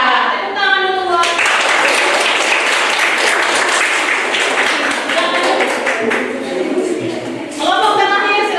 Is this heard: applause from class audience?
yes